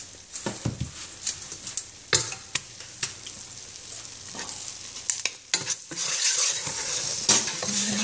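Butter and chocolate stirred in a pan for chocolate popcorn, with a soft sizzle under repeated scraping and clinking of a spoon against the pan, growing busier toward the end.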